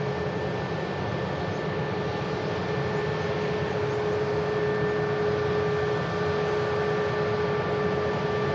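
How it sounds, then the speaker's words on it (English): Airliner at Manchester Airport rolling off the runway via the rapid exit taxiway, a steady distant jet engine roar with constant tonal whine, unchanging throughout. "they will clean the aircraft up now as it just vacates from the rapid exit"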